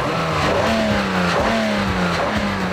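A Lexus RX330 with a revised 3.3-litre V6 revs up under acceleration, its engine note rising steadily in pitch before easing and climbing again in repeated sweeps, close and fairly loud with no talk.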